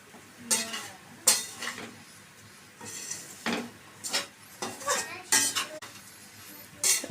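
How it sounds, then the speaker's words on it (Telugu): Spices frying in a pan on low heat, dominated by repeated scraping and clinking strokes of a metal spoon against the pan in irregular bursts, with a faint sizzle underneath. "ఇది సిమ్లో పెట్టుకొని మంచి స్మెల్ వచ్చిన వరకు ఫ్రై చేసుకోండి"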